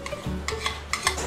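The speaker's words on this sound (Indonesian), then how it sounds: "Kacau sedikit." Kurma spice paste frying in a pot is stirred with a few scraping strokes against the pan over a soft continuous sizzle.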